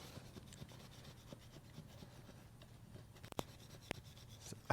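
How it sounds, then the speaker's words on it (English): A scraper rasps steadily across a mirror to lift off stuck residue: continuous close scratching strokes at low level, with a few sharper ticks and scrapes near the end and no talking. "So I'm just gonna keep scraping away."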